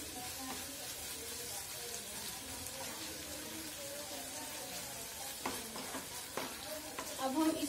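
Tadka (tempering) frying on low heat in a pan while being stirred: a steady soft sizzle with scraping stir sounds throughout, a few louder clinks near the end.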